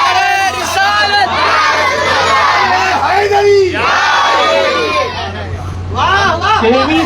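A large crowd at a religious gathering loudly chants religious slogans in unison as a response, with massed voices rising and falling in a few shouted bursts.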